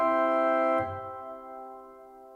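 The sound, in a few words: Viscount Chorum organ with Gothic church reverb setting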